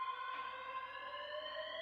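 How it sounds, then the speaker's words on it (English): A school lockdown bell rings as a continuous, steady electronic tone with layered harmonics, fairly faint and unbroken throughout. "No, that's the lockdown bell."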